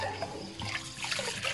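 Rice for rice cakes is rinsed thoroughly in water, a faint, close sloshing and trickling with small splashes throughout.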